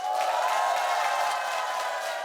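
A studio audience gives a steady, sustained wash of applause and crowd noise welcoming a singer onto a television stage, fairly loud and even throughout.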